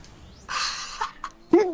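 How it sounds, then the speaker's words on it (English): A loud, close sneeze with a sharp breathy burst, followed by a brief vocal groan. "You were sneezing!"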